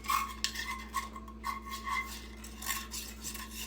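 Spoon stirring butter and seasoning through a bowl of popcorn, with soft repeated scraping and clinking close up, continuing steadily with no talk.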